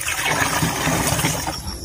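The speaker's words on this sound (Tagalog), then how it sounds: "lagyan natin ito ng tubig" Water pours steadily into a herbicide sprayer tank, a continuous close splashing rush with no breaks.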